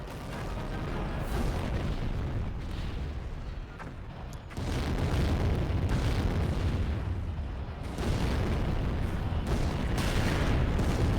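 Loud, continuous bomb explosions in a tank video game, with heavy booming blasts rolling together and sharp renewed bursts near the middle and end, dense and close throughout.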